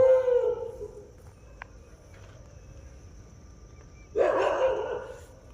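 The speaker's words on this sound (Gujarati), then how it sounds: "આ સાઈડથી કૂતરાનો અવાજ આવે છે બસ" A dog barks and howls in drawn-out calls, heard at the start and again near the end, somewhat distant in a quiet night by a lake.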